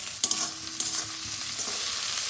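Onion and tomato frying in oil in a wok for a spicy fish curry, a steady close sizzle with the scrape and clatter of stirring running throughout, no voices.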